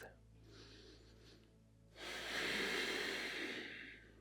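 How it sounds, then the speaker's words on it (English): During a yoga session for shoulder pain, one slow breath is taken: a soft, quiet inhale followed by a longer, louder airy exhale that carries on for about two seconds, close to the microphone. "Deep breath."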